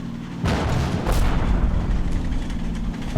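Explosions and mortar fire in the Combat Mission Battle for Normandy war game: a sharp boom hits, another follows a moment later, then a dense rumbling barrage continues without voices.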